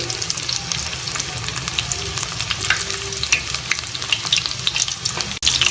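Chicken leg pieces fry in hot oil with a steady, close crackling sizzle and occasional stirring scrapes, crisping as they are turned, with no talk.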